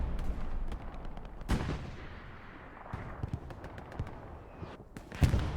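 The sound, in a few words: artillery fire in the video game Hell Let Loose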